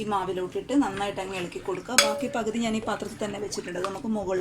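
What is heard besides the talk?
No everyday noises stand out.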